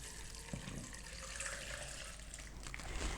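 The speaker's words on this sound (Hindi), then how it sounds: "साथ ही हम इसमें दूध डालेंगे" Milk pours into a smoothie maker jar holding dates, a soft, steady liquid stream with a gentle splashing trickle, quiet and unbroken for a few seconds.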